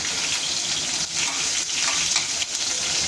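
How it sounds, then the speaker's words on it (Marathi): Finely chopped green chillies sautéing in hot oil with cumin for soybean bhurji, making a loud, steady, rushing sizzle that stays close and continuous throughout with slight surges. "इथं तीन मिरच्या मी बारीक कट करून घेतलेल्या आहे आत्ता टाकून द्यायच्या"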